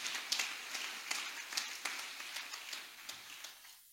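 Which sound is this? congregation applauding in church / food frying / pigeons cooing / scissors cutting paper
congregation applauding in church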